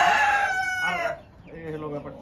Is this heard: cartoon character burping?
no